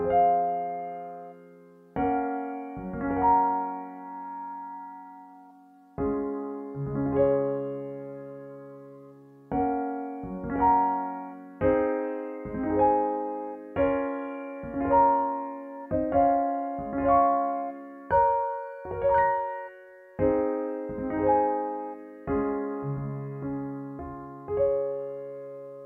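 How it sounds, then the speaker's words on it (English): Artiphon CHORDA MIDI controller playing its built-in sounds, fed by aux cable: a sequence of strummed and plucked synth chords with bright harmonic tones decaying between strikes, steady rhythmic phrases heard alone without talk. "The sounds you're hearing right now are totally built into the Artiphon CHORDA."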